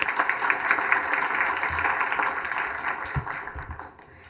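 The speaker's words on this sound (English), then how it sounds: "If we all could give her a round of applause" Audience applause for a cadet during a Leander ISD school board meeting, moderate and steady clapping in a room, gradually fading out over several seconds.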